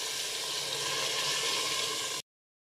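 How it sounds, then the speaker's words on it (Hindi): Water poured from two glasses into a pot of mutton masala during cooking, a steady broadband rushing splash that runs continuously for about two seconds and then stops abruptly, with no talk over it. "अब हम इसके अंदर पानी ऐड करते हैं। 2 गिलास में पानी ऐड करूँगी।"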